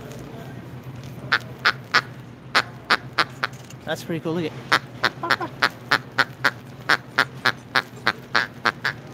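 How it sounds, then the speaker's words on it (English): A squeezed toy duck quacks in a steady run of about two dozen sharp, evenly spaced squeaky quacks, close and loud, inside a grocery store, while people talk over the steady background hum. "That one actually quacks."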